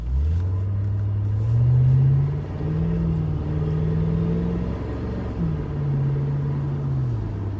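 Ford Mustang GT/CS with Borla Touring axle-back exhausts rolling through a neighborhood, a steady deep low rumble that swells briefly as it accelerates, then settles into a mild cruise, with no talking.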